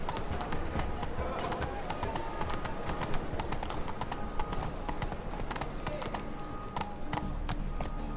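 Roach, a horse in the video game The Witcher 3, trots with a steady, rapid clip-clop of hooves close by. The hoofbeats run continuously with a low rumble underneath and occasional faint game sounds.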